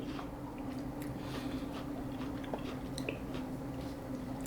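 Close-up crunchy biting and chewing of a Korean giant pear, repeated wet crisp crunches in a steady rhythm against a low background hum.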